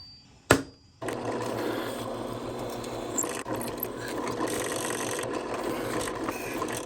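A drill press bores holes in a mounting piece for a switch on a homemade spot welder: a sharp knock, then the motor starts and runs with a steady, close whir and grinding for several seconds.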